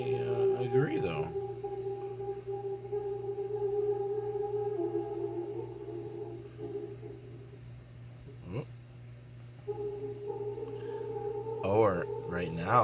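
Granular synthesizer drone on a Pulse Loadrunner, drenched in heavy reverb, with long sustained tones and sliding pitch sweeps that sound like whale song, steady and fairly quiet throughout, briefly breaking near the end.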